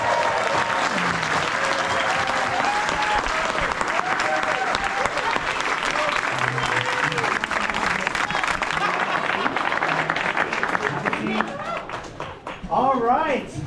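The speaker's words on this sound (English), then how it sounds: "You can always squeeze one more applause for these guys." An audience at a school student-of-the-month award claps for the winners, loud dense applause throughout, with some cheers and voices rising as it tapers near the end.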